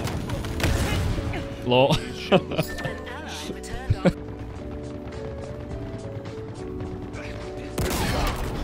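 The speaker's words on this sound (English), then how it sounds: "What's that Forerunner grenade launcher thing? Cinder shot." Cinder Shot Forerunner grenade launcher fired in Halo Infinite, a handful of sharp bursting shots around two to four seconds amid busy game effects and music, with a player talking over the action.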